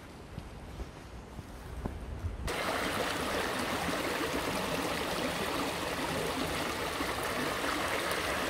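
A woodland stream flows steadily in the forest, a broad rushing wash of water that jumps louder after a couple of seconds and then holds constant and close with no voices.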